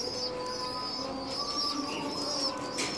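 Domestic baladi pigeons coo steadily and close by in a pigeon loft kept for fattening squabs, with soft continuous cooing and faint chirps and no voices.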